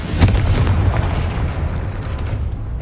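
A Confringo fire-blast spell detonates in Hogwarts Legacy, a loud booming burst near the start followed by a rumbling, crackling tail that lingers and slowly fades.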